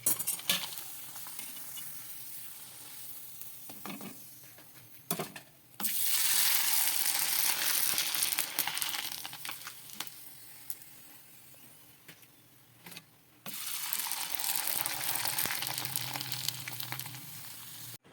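Papad frying in a griddle pan comes as two long bursts of bright, hissing sizzle separated by quieter stretches with faint clicks and handling noises; close, moderately loud, no speech.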